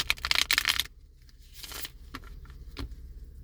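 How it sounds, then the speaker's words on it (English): Oracle cards are shuffled briskly up close, a quick burst of riffling followed by softer sliding and a few light taps. "Let me shuffle them."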